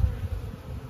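A swarm of honey bees in a backyard hums in a dense, continuous low drone, close and steady throughout.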